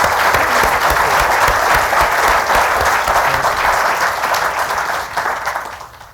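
A large audience claps steadily to welcome speakers at a clean energy event, the broad sustained applause holding strong for several seconds before tapering off toward the end, with no talk over it.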